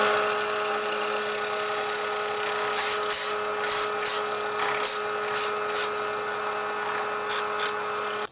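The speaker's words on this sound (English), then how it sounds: "use a barrel trimmer to trim away the excess wood so that it's just sort of flush with that brass fitting" A barrel trimmer trims excess wood flush with the brass tube of a pen blank: a steady, high-pitched motor whine, broken by several short, sharp bursts of cutting midway through.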